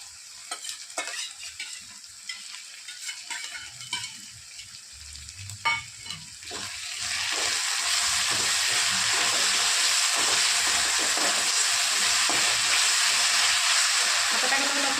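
Onion and tomato sauce go into a hot pan. After some quieter stirring and scraping, a loud, dense sizzle erupts and then holds steady and close for the rest of the time, with stirring continuing through it.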